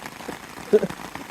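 Rain pattering down on a campsite during a storm on the Appalachian Trail near Lehigh Gap, a brief soft hiss of falling drops close by, with a voice faintly under it.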